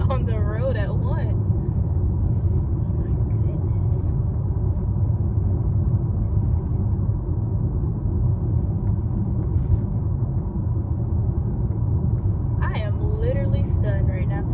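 A car drives through heavy road traffic, heard from inside as a steady, loud low engine-and-road rumble throughout, with a voice briefly audible near the start and again at the end.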